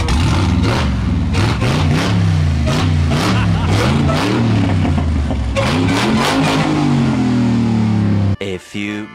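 A Hellcat-powered side-by-side UTV engine revs hard and loud nearby in repeated rising and falling pulls, with a deep throaty roar that cuts out abruptly near the end.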